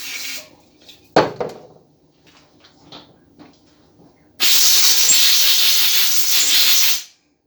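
An aerosol carburetor cleaner spray hisses loudly and steadily for nearly three seconds onto a Briggs & Stratton carburetor part, preceded by a few scattered clunks and handling knocks, close up with no talking.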